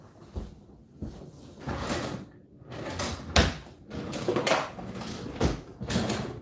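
Kitchen drawers and cupboards being opened and closed in quick succession, a series of close sliding rumbles and wooden knocks with small clatters of contents, no talking.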